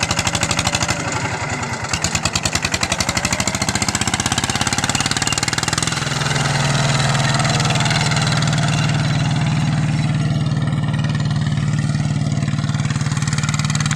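An RT90 walking tractor's single-cylinder engine thumps with a loud, rapid pulse, then revs into a harder sustained roar while the tractor is drifted, close and continuous throughout.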